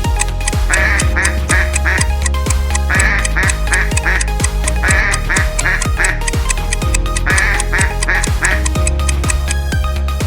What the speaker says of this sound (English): Yes, it's a duck.